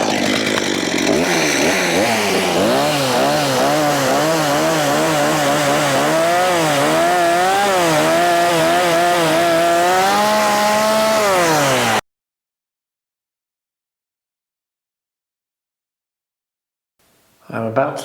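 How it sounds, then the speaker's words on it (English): A chainsaw starts up and runs loudly up close for about twelve seconds, its engine revving up and down in wavering pitch, then cuts out to silence before a short burst of sound near the end. "Now we're going to find out just how loud a chainsaw is when it starts up."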